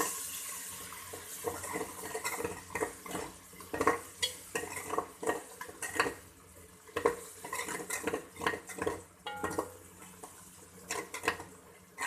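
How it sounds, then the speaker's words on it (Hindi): Garlic-ginger paste stirred into browned onions in a pan for aloo keema, giving repeated close scraping and clinking of a spoon against the pan with a soft sizzle underneath, no talking. "अब हम इसमें डालेंगे लहसुन और अदरक का पेस्ट, इसको अच्छी से हिलाएंगे।"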